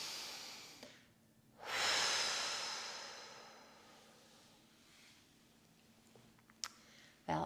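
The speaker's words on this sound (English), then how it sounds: "start your Savasana with 2 cleansing breaths. Take a deep inhale. Exhale, let go." A long, deep, audible exhale flows through the nose and mouth during a yoga cool-down, close and breathy, followed by quieter breathing and a couple of small clicks.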